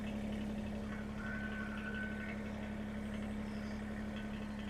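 A John Deere 1023E compact tractor idles in four-wheel drive, low range, with a steady, low diesel drone and a constant hum, unchanging throughout with no voices.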